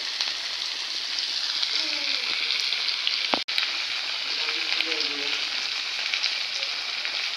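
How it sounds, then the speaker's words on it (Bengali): Boiled potatoes frying in a pan, giving a loud, steady, dense sizzle throughout with one sharp knock partway through and faint background sounds. "আলুটা সিদ্ধ করে তারপরে এই যে এখানে ভাজা ভাজা করা হচ্ছে"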